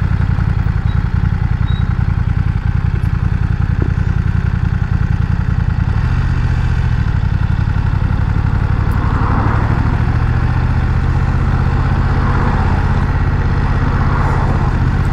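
BMW F900XR motorcycle engine running steadily and loud up close throughout, a continuous low throb with a faint rise in pitch partway through as it moves off through town.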